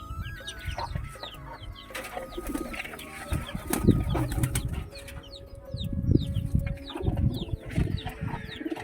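Two Lotan pigeons flap their wings in bursts, with soft fluttering and rustling, amid chirping birds and clucking fowl in a lively coop, while a faint tone hums in the background.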